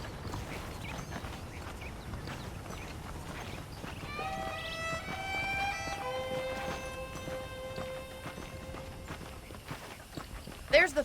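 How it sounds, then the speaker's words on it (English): Saddled horses walking in the Western video game Red Dead Redemption, a steady clip-clop of hooves under ongoing talk and background game sounds, with a brief tonal melody in the middle. "The horses are saddled up over here."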